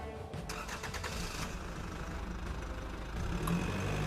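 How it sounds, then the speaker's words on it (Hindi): A car's engine turns over and keeps running in the Free Fire game, a steady, dense mid-range engine rumble throughout, swelling slightly louder near the end. "चलाओ गाड़ी।"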